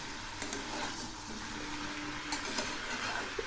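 Soft sizzling and frying of pumpkin pieces, tomato and fried lentils in a pan, with occasional faint stirring scrapes, quiet and continuous.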